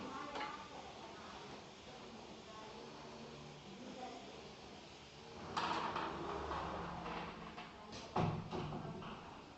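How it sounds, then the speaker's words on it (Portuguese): A door being shut indoors while a saw runs nearby, heard as a couple of sharp knocks and bumps near the end over a steady background hum, with someone talking faintly. "Só um instantinho, deixa eu fechar uma porta aqui."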